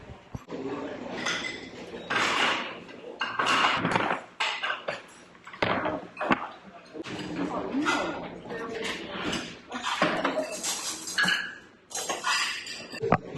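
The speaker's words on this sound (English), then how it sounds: "Hopefully it's not too noisy in here. They're cleaning dishes right there." Dishes and cutlery clink and clatter in the background as they are washed in a Korean restaurant while people talk nearby, with sharp metallic chinks scattered throughout.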